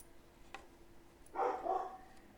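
A dog gives a short burst of barking, faint and some distance away, against a quiet background.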